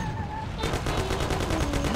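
Rapid bursts of gunfire ring out in the Mafia video game, a dense volley of repeated shots starting after a brief lead-in and continuing loudly and steadily under game music.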